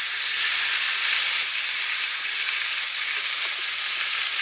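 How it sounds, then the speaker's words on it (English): Unseasoned pork chops sear in a hot, well-seasoned pan. A loud, steady sizzle and hiss holds without a break, and no voices are heard. "I don't want to move just yet, so leave it, let it sear."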